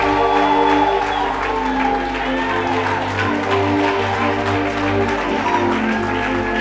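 A church congregation applauds and cheers amid steady, sustained clapping and crowd noise, with a strong, continuous tonal hum and musical drone running underneath at an even, loud level throughout.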